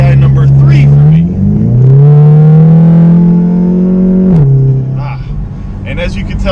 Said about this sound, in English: as you can tell by hearing that exhaust as I get on the highway